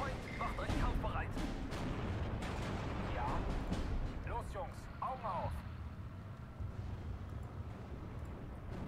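Artillery fire and explosions in the video game Steel Division 2 rumble and crack continuously in a dense battlefield barrage, with people talking over the din.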